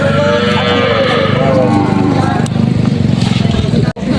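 Busy livestock market yard with water buffalo being unloaded, lowing and shuffling amid a steady crowd murmur and people talking, plus a brief clatter near the end.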